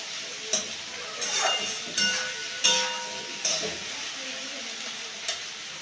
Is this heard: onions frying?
yes